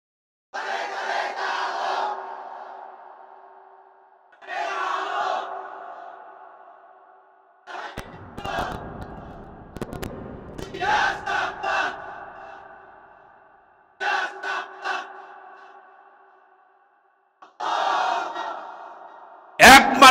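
A crowd at a Bengali Islamic sermon shouts takbir in repeated unison bursts, each call rising loud then fading, separated by short silences, with one louder, rougher surge midway.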